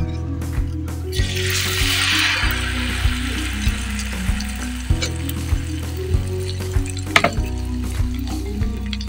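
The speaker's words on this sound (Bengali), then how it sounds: "এখন আমি দিয়ে দেব আমরা যে আগে পেস্ট করে রেখেছিলাম পেঁয়াজ, রসুন, আদা আর ধনে পাতা, সেটাকে এখন এখানে ঢেলে দেব।" Onion, garlic, ginger and coriander paste goes into a hot frying pan and fries with a steady sizzle, with regular clicks and scrapes of stirring close by and loud.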